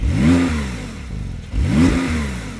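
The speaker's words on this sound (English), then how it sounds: "When you press the button, it opens a valve in the exhaust," A 2021 Porsche 911 Turbo S engine with exhaust valve open revs twice in quick rising-and-falling bursts, loud and close, with a deep throaty exhaust tone.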